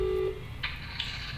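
A telephone is dialed to call home: a short tone, then a few brief keypad beeps over a steady low hum, with no talking.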